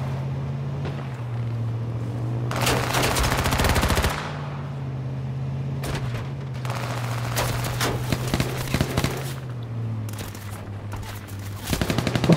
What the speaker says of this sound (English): All these people shooting at you and you still haven't got hit.